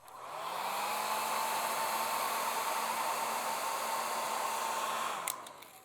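A hair dryer dries a watercolor painting, switching on with a rising whir, running as a steady close hiss for several seconds, then clicking off.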